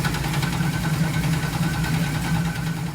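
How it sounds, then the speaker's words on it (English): A Camaro engine runs at idle with its steering rack pushed into the oil pan, giving a steady, loud, close rumble with a rhythmic knocking vibration throughout. "which had pushed the steering rack into the oil pan, causing it to sound like this"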